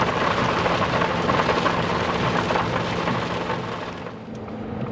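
Heavy rain drums on a new Ford truck as it drives over a mountain pass, a dense, loud, continuous roar of water that eases slightly near the end, with no talking.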